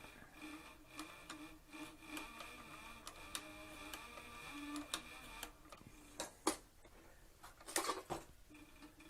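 Cowboy CB4500 leather sewing machine with a servo motor stitching a flank strap for a western saddle, giving slow, regular needle clicks and thumps with a faint mechanical hum, quiet and close, alone.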